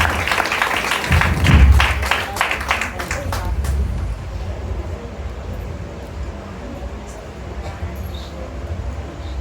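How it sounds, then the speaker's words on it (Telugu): Church congregation clapping together in a brief burst of applause, strongest in the first few seconds and fading away, leaving quieter room noise afterward. "వారిని బట్టి ఒకసారి మనం చప్పట్లు కొట్టి ప్రభువుని గణపరచుదాం."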